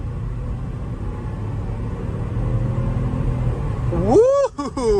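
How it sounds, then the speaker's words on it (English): A supercharged Range Rover accelerating hard, its engine rumbling steadily and building in loudness, then a voice breaks in with an excited shout near the end. "That supercharger kicked right in, sounded awesome, and it shifted fine"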